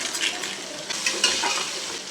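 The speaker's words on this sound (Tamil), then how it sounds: "நல்லா பொறிஞ்சிடுச்சு இப்போ வந்து ஆனியன் ஆட் பண்ணிக்கலாம்" Onions for mutton biryani sizzle in hot oil while a spoon stirs them, producing a short burst of bright crackle with a few light metallic scrapes, close and unaccompanied by speech.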